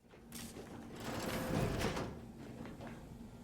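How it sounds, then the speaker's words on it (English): A sliding door mechanism opens in The Outer Worlds 2 video game with a mechanical whirring, grinding slide that swells and fades over a few seconds, heard alone. "That door noise just unlocked Fallout 3 memories."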